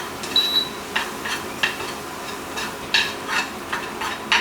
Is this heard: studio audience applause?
no